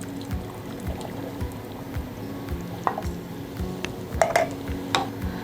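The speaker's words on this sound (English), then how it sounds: "we're gonna go in with our pumpkin. We're gonna go in with our chickpeas." Pumpkin and chickpeas tipped into a cooking pot, giving soft wet squishes, small plops and a few light clinks of utensil against pot, fairly close and quiet.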